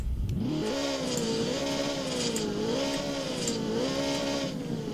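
A McLaren car engine revs, a sustained loud engine note rising and falling in waves for several seconds, close by with no talk.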